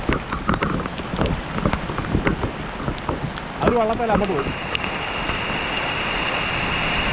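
Steady, dense Kerala monsoon rain hissing down throughout, with someone talking briefly over it partway through.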